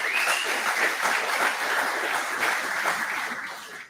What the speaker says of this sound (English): y'all give yourself a round of applause for putting some donkeys on the board